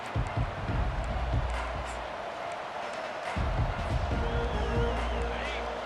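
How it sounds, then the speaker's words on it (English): A college football stadium crowd at Clemson, hosting Mizzou, roars loudly and continuously as the drive begins, the dense noise swelling again midway, with faint commentary talk beneath. "This crowd bringing an ear-splitting welcome to their visitors"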